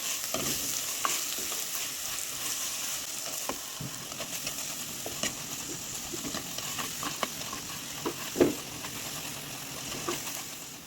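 Curry leaves frying with onion in a pan for a spicy Jaffna-style cutlet filling: a steady, fairly loud sizzle and crackle with occasional spatula scrapes and clicks, no talk.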